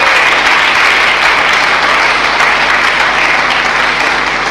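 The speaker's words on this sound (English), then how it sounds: "You should be applauding by now." Loud, dense audience applause fills a university anniversary public dialogue hall, a steady unbroken roar of many hands clapping.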